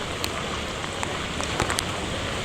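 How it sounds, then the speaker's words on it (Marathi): Steady rain falling during an all-day downpour in Nalasopara, an even, close hiss of drops on surfaces with a few sharper individual splats. "दिवसभर चालूच आहे पाऊस"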